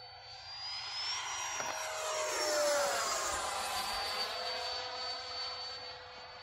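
A Freewing 90mm F-22 RC jet with an extra fuel tank roars overhead, its turbine whine sweeping in pitch as it passes, building to a peak midway and then easing off.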